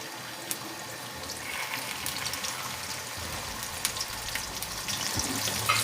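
Okra (bhindi) frying in plenty of oil over medium heat gives a steady, close sizzle with a constant hiss and small crackling pops, no voices.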